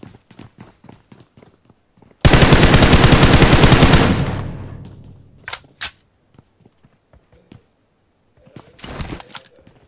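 Video game gunfire erupts as a loud, rapid automatic burst lasting about two seconds, then fades into a few sharp single shots and soft footstep-like taps, with another short burst near the end.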